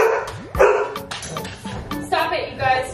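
A dog barks in a few sharp bursts close by, mixed in with people talking casually over it.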